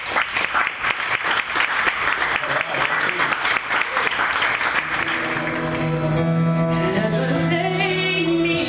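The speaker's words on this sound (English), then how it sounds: "just give him a round of applause for Andy." A crowd at a Mardi Gras night event bursts into loud, dense clapping that gradually thins out as music with sustained tones rises underneath toward the end.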